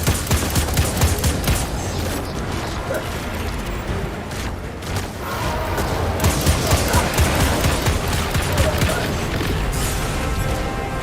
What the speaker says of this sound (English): Oh, you got an auto rifle?